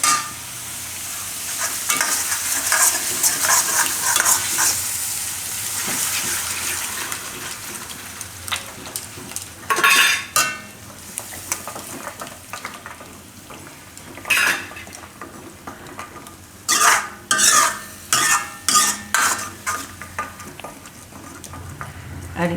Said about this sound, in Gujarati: રીતે દહીંને મિક્સ કરી લેવાનું આમાં ત્યાં સુધી હલાવતું રહેવાનું